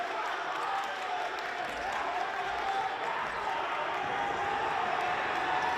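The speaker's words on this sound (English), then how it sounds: "Football crowd into it again" Crowd noise fills the arena at a women's basketball game, a steady, moderately distant murmur of spectators, with a few faint bounces and claps in the mix.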